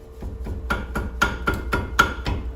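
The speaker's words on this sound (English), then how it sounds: "Somebody might as well hit it with the hammer a little bit." Hammer blows on the rear parking brake of a 2001 Suburban, about nine sharp metallic strikes in a steady rhythm, close and loud with a ringing tone and no talk.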